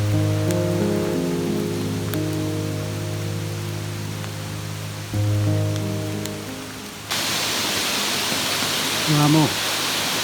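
Steady rain hisses on a rocky, root-covered mountain trail in the Southern Japanese Alps, loud and continuous, with a sustained tonal hum in the first half before the rain fills the sound alone.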